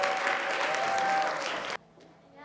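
Applause welcoming a contestant at a Korean speech and quiz contest in Toronto, a dense burst of clapping from the audience that cuts off abruptly after under two seconds, leaving near silence.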